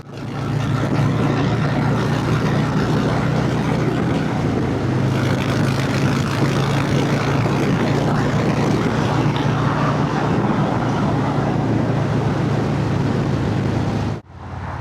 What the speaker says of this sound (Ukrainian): Ось я їду по трасі на Харлі Девідсоні.